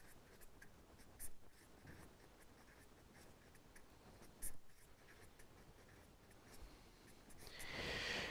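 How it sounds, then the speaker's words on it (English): Pen or chalk writing out a physics expression for the free energy of interaction between two surfaces, with soft scratchy strokes and occasional taps repeating quietly through the clip. "I will probably do a better job by writing the whole expression again."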